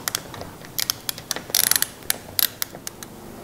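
A bolt on a metal clamp is tightened onto a tube cross member of a leaping arch frame for a Christmas light display, giving a quick, irregular series of sharp ratcheting clicks close by.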